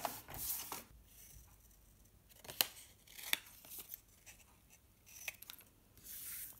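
Scissors snip through printed 160 gsm paper pieces for a botanical journal project, giving quiet intermittent cuts and rustles with a few sharper snips, close and alone.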